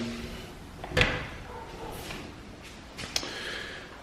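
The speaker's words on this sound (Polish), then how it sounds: "w momencie, gdy drzwi się zamykają, to chwyta dopiero zamek." A handleless interior door closes onto a magnetic lock, giving a sharp close knock followed by a softer click a couple of seconds later in a quiet room.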